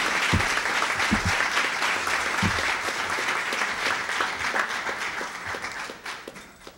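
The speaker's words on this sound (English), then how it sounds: "Please give him a round of applause." An audience at an African American History Challenge Bowl ceremony claps in sustained, even applause, with a few louder individual claps and thumps standing out before it tapers off.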